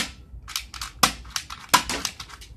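A BB gun bought from an ice cream truck fires two sharp, close snaps about a second apart, among light clicking and rattling handling noises.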